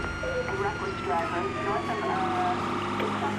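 Police siren wailing during a cop chase in Grand Theft Auto V, a rising and falling tone sustained under game engine and ambient noise, fairly loud and continuous.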